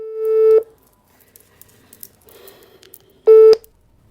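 A telephone tone waits to be answered: two loud, steady electronic beeps, each roughly half a second, separated by a quiet gap of about two and a half seconds with faint background noise.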